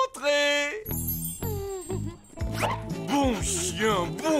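Washington, a cartoon guard dog, gives a series of sharp, close barks and yips mixed with whining tones and a jingle, in a lively animated scene.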